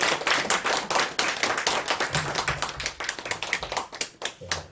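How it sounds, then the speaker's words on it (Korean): Church congregation clapping in welcome for a visiting pastor during a Sunday service, a dense, steady burst of many hands applauding close by that runs without pause. "우리 황사무엘 목사님 우리 박수로 환영하면서 모시도록 하겠습니다"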